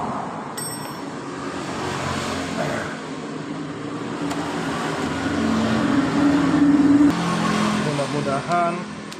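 Yamaha Mio Soul GT fuel-injected scooter engine idling and revving unevenly on the bench during repair, a close steady mechanical drone that rises toward the end, with someone talking over it.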